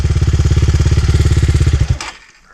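A Rottor F1 enduro motorcycle revs loudly and close with a fast, even engine pulse, then the roar cuts off abruptly near the end and leaves near silence.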